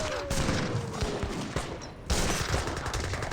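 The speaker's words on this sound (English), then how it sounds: "Gatling guns firing away, annihilating his forces" Gatling guns in the Age of Empires 3 strategy game pour out dense rapid gunfire, a continuous crackling fusillade that briefly drops off and then resumes, with battle noise behind it.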